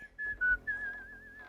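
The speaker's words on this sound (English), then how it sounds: "The whistling only makes it creepier," A person in a horror film whistles a wavering, slow tune in a few short phrases, fairly quiet and close, with no talking.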